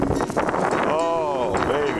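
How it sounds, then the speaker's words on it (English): Steady wind buffeting the microphone with a continuous rushing roar at a model airplane flying field, and a voice speaking briefly over it. "And it's windy too, folks."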